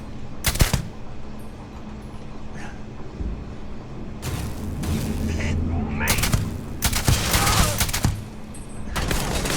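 Video game battle gunfire: loud bursts of automatic fire and single shots come in clusters over a constant rumbling background, with heavy volleys toward the end.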